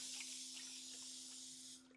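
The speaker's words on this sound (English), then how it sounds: "We're just going to spray her down and get her in there." A spray bottle misting sourdough bread dough hisses steadily for nearly two seconds, close and fairly loud, with a faint low hum underneath.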